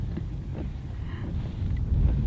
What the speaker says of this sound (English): Oh, the wind is definitely blowing.